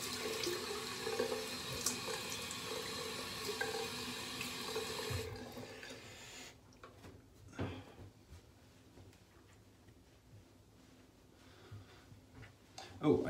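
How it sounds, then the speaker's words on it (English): Water runs steadily from a bathroom tap for rinsing after a shave, a fairly loud continuous stream that cuts off partway through, leaving quieter room sounds and small clicks. "I'm going to rinse now and just get a confirmation on that"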